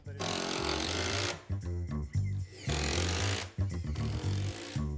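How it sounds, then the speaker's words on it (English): A power drill whirs in bursts, driving self-tapping screws at an angle into a kitchen base cabinet with a buzzing, stuttering grind, pausing briefly between runs before starting again. "So I'm just going to drill down at an angle, a couple in the front, a couple on the sides."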